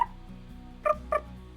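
A human voice imitates a high-pitched creature chirp, with two short squeaky chirps in quick succession, close and fairly loud over a low background hum.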